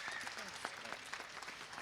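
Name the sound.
audience applause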